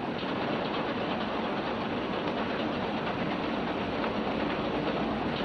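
A passenger train rolls along the rails with a steady, loud rumble and faint rhythmic clickety-clack heard from inside the car, with no voices.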